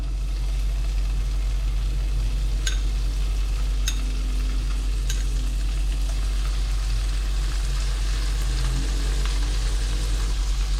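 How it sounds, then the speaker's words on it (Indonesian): Shrimp frying in a pan with half-cooked garlic, a continuous close sizzle with a few sharp ticks and clinks, steady and loud with no talk. "Bawang putihnya sudah setengah matang, sudah harum. Kita masukkan udang."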